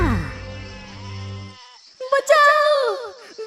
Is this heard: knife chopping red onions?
no